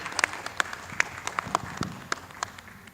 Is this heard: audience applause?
yes